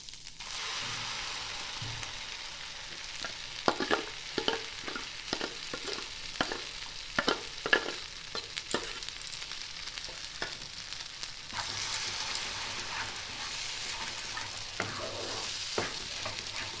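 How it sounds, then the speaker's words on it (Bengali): Green pea paste frying in a pan and stirred with a spatula, an even sizzle punctuated by repeated sharp scraping strokes, with the sizzle swelling louder toward the end. "ভালো করে নাড়িয়ে চাড়িয়ে নেব আমি। এটা এইভাবেই খুন্তিটাকে নাড়িয়ে যেতে হবে।"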